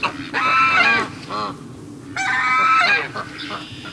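A Canada goose among ducks gives loud, nasal honks in two bursts, close by, with some overlapping fowl calls outdoors.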